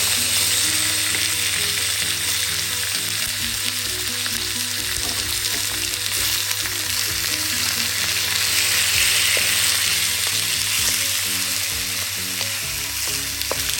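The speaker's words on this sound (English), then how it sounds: "I'm frying my pork" Cubed pork belly sizzles and crackles steadily in hot oil for the whole stretch, loud and close, with occasional stirring and no voices.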